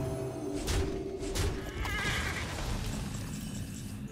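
A horse neighs in the Hearthstone card game, a loud whinny with trailing snorts and faint hoof clip-clops over a constant game music bed, no talk.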